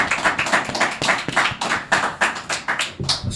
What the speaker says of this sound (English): thanks guys for clapping